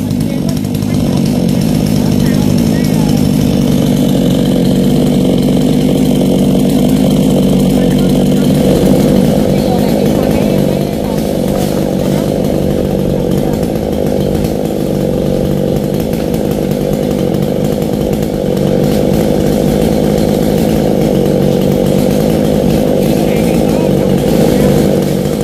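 A chainsaw cuts through a curved coconut tree trunk that leans against a wall, its steady loud engine drone running continuously with little letup, while people talk in the background.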